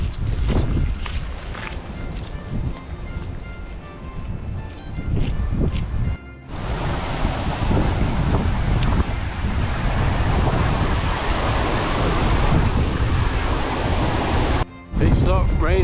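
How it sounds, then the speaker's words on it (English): Strong wind on the West Highland Way in Scotland buffets the microphone in a heavy, continuous roar with brief gaps, like gusts blowing hard outdoors. "Well, that wind's really picked up. Very windy."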